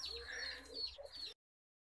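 Chickens and a rooster clucking in a village yard kept for pigeons, several short near calls overlapping for about a second and a half before the sound cuts off.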